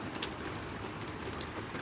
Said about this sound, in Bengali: শুধু বৃষ্টি আর বৃষ্টি